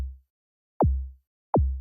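Two punchy drum-synth hits from a Bastl Pizza Crust module, each a quick portamento sweep diving from a high pitch down to a deep low thump, evenly spaced and alone, with a decaying tail at the start.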